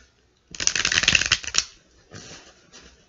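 A rapid riffle shuffle of tarot cards, a crisp fluttering burst for about a second, followed by quieter shuffling sounds.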